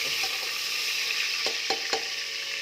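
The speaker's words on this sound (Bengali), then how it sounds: "আলু ফেলে দিয়ে আলুটা ভাজবো লাল করে" Potatoes frying in oil, a dense continuous hiss of sizzling that stays even throughout, with a few faint utensil taps near the end and no voices.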